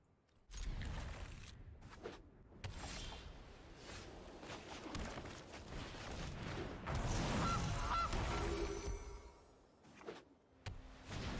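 A goose honks in the MTG Arena card game, noisy bursty honking and flapping clatter filling most of the stretch, loud and close, with no speech.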